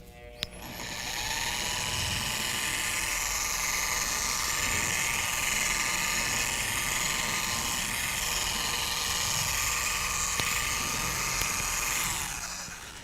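Torq X machine polisher on a classic car restomod, spreading polish over the paintwork: it whirs up, holds a steady, high-pitched droning whine for about twelve seconds, then spins down, close and loud.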